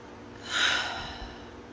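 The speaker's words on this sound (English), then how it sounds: "And then you'll take a deep breath." A single deep breath drawn in, a soft airy swell that rises and fades over about a second, close and quiet, with no talking.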